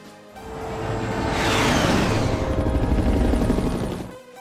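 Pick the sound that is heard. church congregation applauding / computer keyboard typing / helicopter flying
helicopter flying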